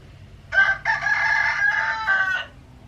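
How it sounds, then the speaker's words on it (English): A rooster crows once, loud and close, a long ragged call broken into a few stuttering segments over a quiet background. "Also, I got roosters. I got chickens."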